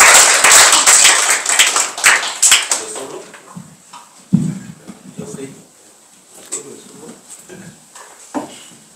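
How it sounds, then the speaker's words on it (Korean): Church congregation claps in welcome for Rwandan brothers about to sing a special song at a Christmas Eve service; brisk clapping fades out within a few seconds, followed by scattered taps and voices in the room. "박수로 환영해 주시면 좋겠습니다."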